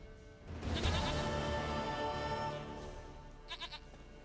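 A goat bleats in Witcher 3, a loud, wavering bleat of about two seconds with a shorter quiet call near the end, heard on its own.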